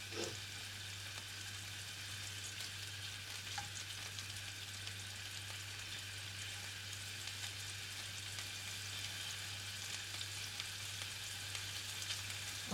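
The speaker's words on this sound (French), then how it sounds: "faites attention parce que ça pétille" Scallops sear in a frying pan with a low, steady sizzle that holds evenly for several seconds, faint and close, with a constant hum beneath and no voices.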